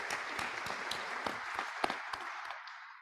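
Members at a Rotary Club hybrid meeting give a round of applause, with a steady mass of clapping punctuated by a few sharp, distinct hand claps before it dies out.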